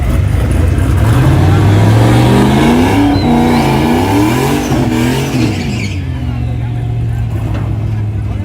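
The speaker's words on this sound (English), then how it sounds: "Got a turbo truck right here, y'all." A turbocharged truck engine revs hard up close at a street race, its roar rising and falling in pitch, then settling into a steady loud rumble.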